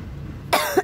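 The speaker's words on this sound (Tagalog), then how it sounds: "Inuubo ako mga mi." A single close cough, a short sharp burst followed by a smaller second one, after a moment of quiet.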